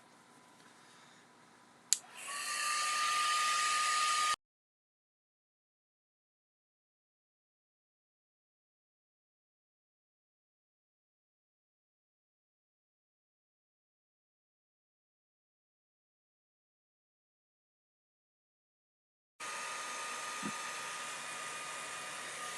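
A hair dryer blowing on mica stain over a stencil for a Halloween craft background, a steady loud whir starting after a click, cutting off abruptly, then resuming after a long silence.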